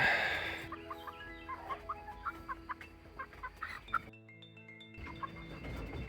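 A rooster clucks in a series of short, rhythmic calls, close by, with a brief quiet gap before scratchy background noise resumes.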